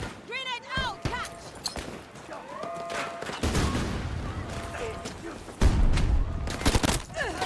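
Grenade blast and rapid gunfire in the Battlefield 2042 video game, with bursts of shots and a heavy boom near the end, mixed under game voice lines.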